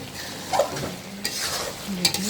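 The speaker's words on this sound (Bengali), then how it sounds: "মাংসটা আমি ভালো করে কষাই নিছি" Chicken pieces are sautéed and stirred in a pan for a Bengali chicken curry, an even frying sizzle broken by a few scraping strokes and knocks of the spoon, close and without voices.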